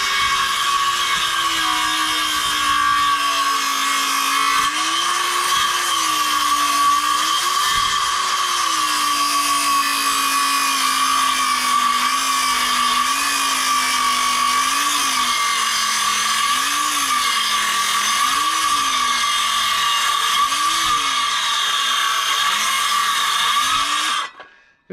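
A small hand-held power saw runs continuously while cutting a timber post for roof purlin supports during house construction, its loud whine rising and dipping in pitch as the blade bites, then stopping abruptly at the end.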